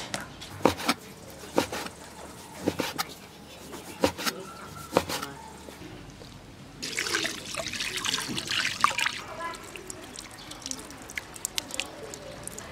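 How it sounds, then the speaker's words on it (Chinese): Water trickles and splashes as sliced pork liver is rinsed by hand in a bowl, with scattered clinks and sloshing, then a steadier rush of running water. "猪肝切成片，用水多洗几遍"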